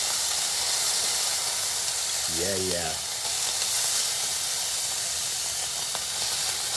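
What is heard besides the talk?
pork carnitas frying in oil and orange juice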